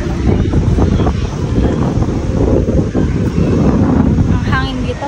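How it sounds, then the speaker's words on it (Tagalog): Strong wind buffets the microphone outdoors at Hong Kong Ocean Park, a loud, constant low roar with a hint of surrounding voices beneath it. "Ang hangin dito, sarap."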